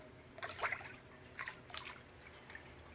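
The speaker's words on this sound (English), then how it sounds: "go down in the water with it, let it fill up, and then slowly start coming down" Water trickles and drips faintly as a car valve cover is lowered into a hydro dipping tank and fills up, a few small splashy gurgles close by in a quiet room.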